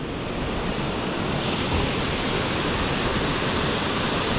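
South Fork Falls pours with a steady, loud roar of rushing water: dense, unbroken and close, holding constant for the whole stretch with no voices over it.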